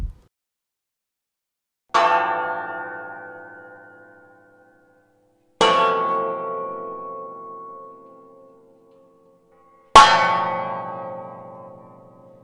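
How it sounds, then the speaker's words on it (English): Three resonant bell strikes ring out a few seconds apart, each tone sustaining and slowly fading into silence before the next. "When you hear the bells, slowly open your eyes."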